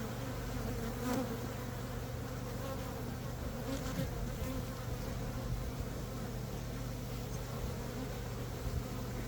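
Honey bees at an opened beehive in an outlying apiary yard fill the air with a dense, steady, low buzz. The hum runs unbroken throughout, fairly soft, with no talk.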